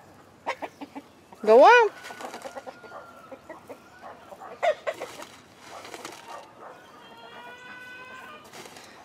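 Leghorn chicken loose in a garden, giving a sharp squawk and scattered clucks nearby, with a person speaking briefly among the bird calls.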